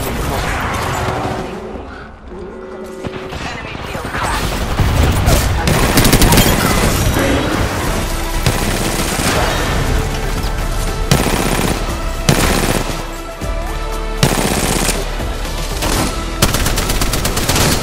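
Video game gunfire, with dense automatic bursts and repeated shots over a loud, continuous game soundscape, close and intense, and a voice speaking briefly.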